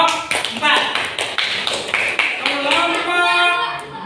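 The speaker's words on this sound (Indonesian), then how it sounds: "beri tepuk tangan untuk kelompok 4." Students in a classroom clapping for a presenting group, a loud rhythmic patter of claps in repeated bursts mixed with voices calling out together.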